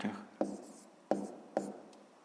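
A math answer is handwritten, producing a few short scratchy strokes and taps of pen or chalk, close and fairly quiet, in a brief stretch without talking.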